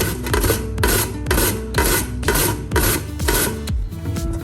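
Food is sliced on a stainless steel grater, with close, loud rasping strokes repeating in a steady rhythm, about seven passes in a few seconds.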